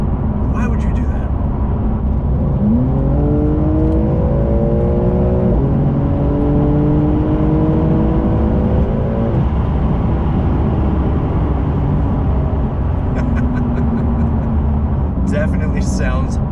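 A 2020 Porsche 911 (992) Carrera S accelerating hard from inside the cabin, a loud steady engine drone with rising pitch sweeping up through the gears, continuous and close.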